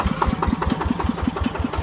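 A Yanmar 160 farm tractor engine idles with a steady, evenly spaced thumping beat of strong low pulses, heard close and alone.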